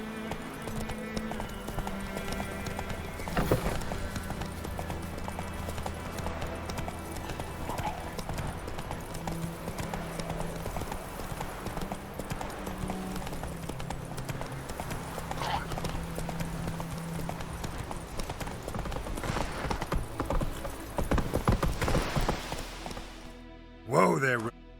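Roach, a horse in The Witcher 3, trots with steady clip-clopping hooves through most of the stretch, with an occasional whinny, while people talk over it.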